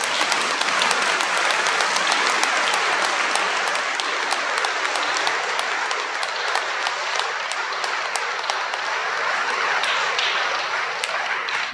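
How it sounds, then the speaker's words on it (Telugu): An audience claps continuously at a closing ceremony of a diocesan assembly in a cathedral, dense steady applause filling the hall for the full length without speech. "ముచ్చటగా మూడోసారి చప్పట్లు కొడతారా?"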